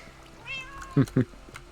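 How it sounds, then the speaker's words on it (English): A house cat meows loudly twice in quick succession, close by, with a softer vocal sound just before and some talking nearby. "you could hear my cat meowing very loudly"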